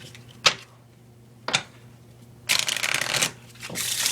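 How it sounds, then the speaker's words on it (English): A deck of playing cards is shuffled during a card trick: two quick riffle snaps a second apart, then a longer, dense fluttering riffle and a final shorter burst, close and crisp. "We shuffle the cards, we'll shuffle it right back."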